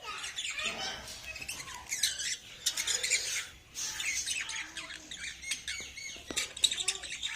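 Small parrots in a cage chirp and squawk continuously, a busy close chorus of sharp tweets and calls with occasional wing flutters and faint voices in the background.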